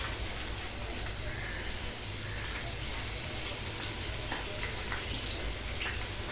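Slices frying in hot oil over a medium-high flame for mutton biryani, a steady dense sizzle and crackle throughout, close and even, with no talking.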